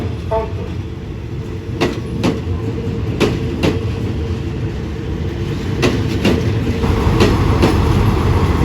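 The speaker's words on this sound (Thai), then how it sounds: "ตอนนี้ขบวน 86 จากสถาน ีนครศรีธรรมราช" Thai passenger train No. 86 from Nakhon Si Thammarat, a long 19-car consist bound for Bangkok and nearing Surat Thani, rumbles steadily while wheels strike rail joints in paired clickety-clack beats, heard from inside the carriage.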